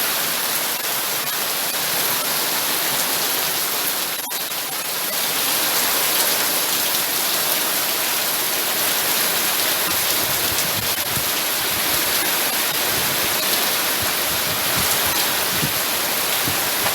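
The first rain of the season falls as a steady, even hiss of drops on surfaces, moderately loud and unbroken throughout with no voices.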